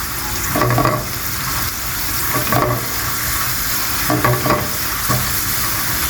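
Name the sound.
onions frying with pine nuts in oil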